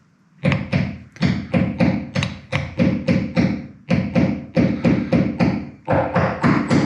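Hammer blows knocking a plastic piece into a BoatEFX GraphLOX fish-finder mount, a close, loud series of sharp thuds in quick bursts of three to four strikes separated by brief pauses.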